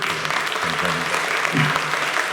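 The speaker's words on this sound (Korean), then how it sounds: "우리 환영의 박수 크게 받으십시오." Welcoming applause from a church congregation during a Sunday service, steady clapping filling the room with some low murmur underneath, moderately loud throughout.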